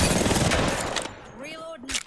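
Rapid video game gunfire crackles densely through the first second, then thins out as a short chirping electronic tone and a final burst of shots follow.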